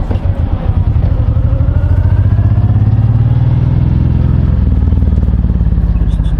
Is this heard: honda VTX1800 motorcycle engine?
yes